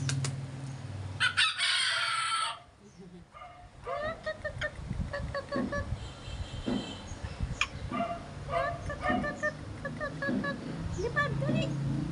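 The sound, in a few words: rooster crowing and chickens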